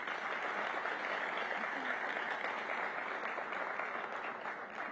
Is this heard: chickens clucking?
no